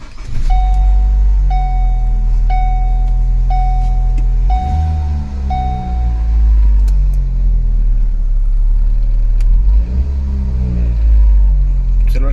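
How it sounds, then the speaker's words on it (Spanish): A 2012 Ford Focus with a worn engine and transmission mount, heard from inside the cabin: a run of evenly spaced warning chimes, then a loud, deep engine rumble that swells and keeps droning, with a second heavy surge near the end. "si el carro hace mucho ruido cada vez que enciende"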